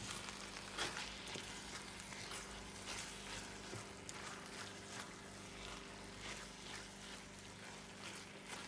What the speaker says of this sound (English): the last process is adding the prawns in the mixture and